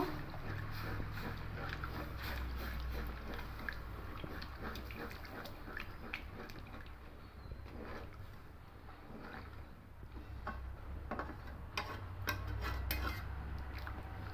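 Moong dal being mixed with water in a pressure cooker using a spatula, irregular scraping and knocking of metal against the pot with sloshing, fairly quiet and close.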